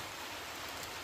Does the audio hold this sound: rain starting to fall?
yes